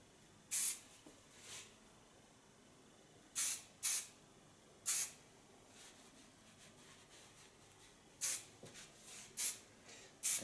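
Quick hissing spurts of aerosol hair finishing spray, some single and some in pairs, scattered irregularly with quiet gaps between.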